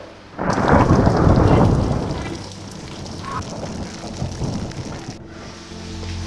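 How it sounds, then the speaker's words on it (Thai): A loud rumble of thunder rolls in and slowly fades, with rain pattering steadily in the background. "เฮ้ยเสียงฟ้าร้องเหมือนฝนจะตกเลย"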